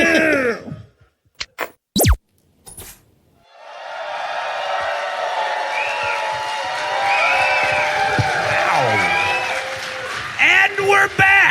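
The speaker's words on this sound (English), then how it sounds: "you can tell by the enthusiasm of that applause" A live comedy podcast audience bursts into applause and cheering after a few sharp sounds and a short gap, the crowd noise building and holding loud for several seconds before voices break in near the end.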